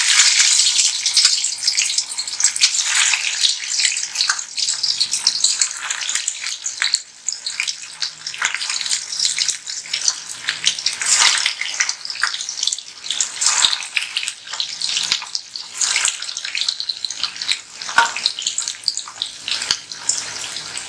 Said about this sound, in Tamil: இப்போ இதை நம்ம எண்ணெயில் போட்டுக்கலாம்.